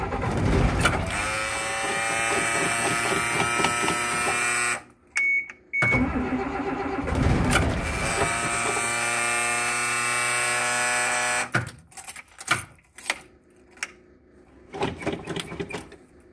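A diesel engine cranks over in several long bursts, its starter whirring with a buzzing, harmonic drone. Short silent pauses separate the attempts, and the final tries grow choppy and sputtering without catching.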